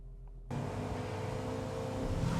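A manual 2017 Ford Mustang coupe launching from a standstill: after a brief quiet moment, the engine note jumps in abruptly and holds as a loud, steady roar that builds slightly as the car pulls away.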